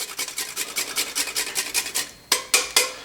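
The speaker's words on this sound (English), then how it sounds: "Grate some of this awesome dark chocolate right on top." Dark chocolate is rubbed over a hand grater onto a chocolate pudding parfait in quick, even rasping strokes, followed by three sharper, separate scrapes at the end.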